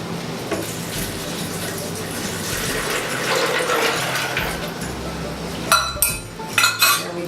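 Water pours into a Vitamix blender holding a cup of almonds, a continuous splashing rush that swells, then gives way to a few sharp clinks and knocks of the container near the end.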